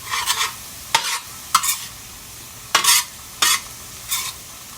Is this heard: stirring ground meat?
yes